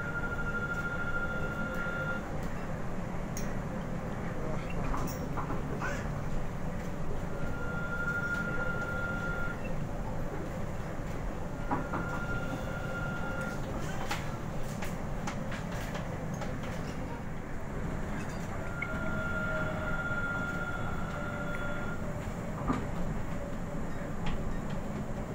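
Kalayang Skytrain people mover running at Soekarno-Hatta airport, a steady rumbling ride with a continuous hum and intermittent electronic tones heard from inside the car, without talking.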